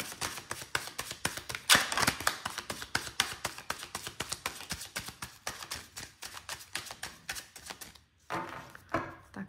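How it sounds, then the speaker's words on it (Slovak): Tarot cards being shuffled and drawn by hand, a steady run of close, crisp papery taps and riffles with a brief pause near the end before a final burst of shuffling. "Vyberieme teraz 6 tarotových kariet."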